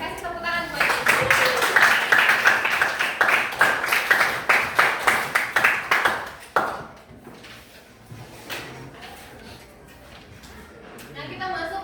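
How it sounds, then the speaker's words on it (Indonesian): A classroom claps for the teacher in a steady rhythmic pattern of many hands that fades after several seconds, with voices throughout. "Kasih tepuk tangan buat ibu."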